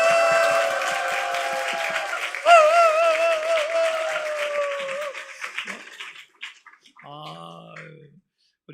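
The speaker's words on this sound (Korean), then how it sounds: "그럼 우리 환호와 함께 우리 선생님한테 우리 박수 한번 쳐드릴까요?" A church congregation applauds and cheers for teachers at a teachers' dedication worship service, moderate clapping with a bright whoop rising midway, fading out into scattered voices and a short sung phrase near the end.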